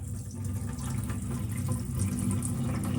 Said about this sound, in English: Let some water run